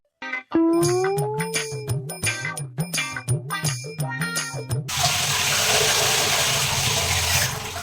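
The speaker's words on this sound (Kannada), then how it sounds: "ಇವಾಗ ಅದನ್ನು ಇನ್ನೂ ಒಂದು ನಾಲ್ಕು ಸರಿ ವಾಶ್ ಮಾಡ್ಕೊಬಿಡ್ತೀನಿ" Water runs steadily from a tap into a sink as soil is rinsed off food, after some knocking and clinking of items being handled beforehand.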